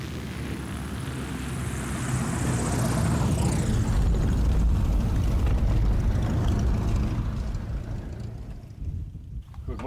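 A light aircraft on aerial patrol over the forested slopes of Mount Kenya, a steady propeller engine drone that swells and holds loud, then fades away at the end.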